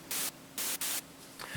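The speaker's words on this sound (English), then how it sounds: "This is just a white noise." Bursts of synthesized white noise shaped with a limiter and EQ for a crisp sound, three loud hissing blasts in a quick uneven rhythm separated by a quieter steady hiss.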